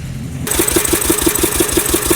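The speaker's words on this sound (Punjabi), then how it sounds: "ਲਓ ਜੀ ਹੋ ਗਿਆ ਇੰਜਨ ਸਟਾਰਟ" An engine cranks and catches abruptly, then settles into a steady, rapid rhythmic chugging, loud and close.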